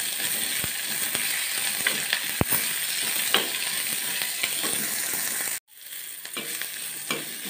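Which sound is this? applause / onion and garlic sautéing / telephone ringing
onion and garlic sautéing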